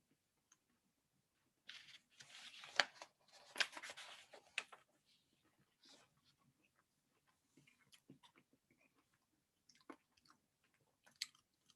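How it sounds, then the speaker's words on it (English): Someone chews fruit close to the microphone, with crisp bites and wet crunching in bursts followed by quieter sporadic chewing and small clicks. "Must be fun hearing me chew."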